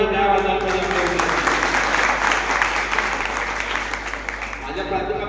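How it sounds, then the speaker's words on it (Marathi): An audience at a college function in Navapur bursts into strong, sustained applause, a dense wash of clapping that fills the whole stretch and thins slightly toward the end, with a voice briefly audible at the start. "त्यांच्यासाठी जोरदार टाळ्या वाजवायला पाहिजे."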